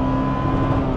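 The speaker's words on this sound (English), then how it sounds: "But once you start to accelerate through the revs," A 1990s Honda NSX Zanardi engine drones loud and close under acceleration, a steady sustained engine tone through the whole short stretch.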